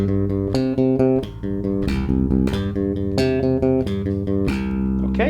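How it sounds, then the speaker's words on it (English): Bass guitar picked with three fingers in steady triplets, three notes per string across a root, fifth and octave shape, each note sharply plucked in an even, continuous run with no talking. "just play triplets across it"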